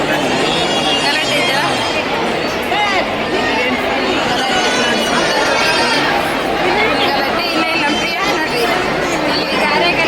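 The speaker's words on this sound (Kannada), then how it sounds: "ಫುಲ್ ಕ್ರೌಡ್ ಇದೆ" Dense crowd chatter at the Savadatti Yellamma temple, a loud, steady babble of many overlapping voices with no pause.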